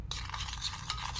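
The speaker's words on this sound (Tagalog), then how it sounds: "ating halo-haloin natin guys itong atong adobo mix para ating mo ilagay dito sa ating papaya" A utensil stirs adobo mix for chicken liver adobo with papaya, making a short run of soft scraping and swishing sounds, close and fairly quiet, with no talking.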